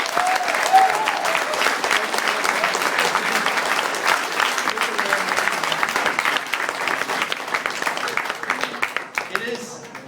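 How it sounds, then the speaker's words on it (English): Crowd of supporters at a Justin Trudeau BC field team celebration applauding volunteers, dense sustained clapping for about nine seconds with scattered cheers, thinning out near the end. "Please, a big round of applause for our volunteers."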